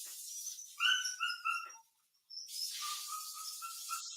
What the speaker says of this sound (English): He asked whose dog's whining.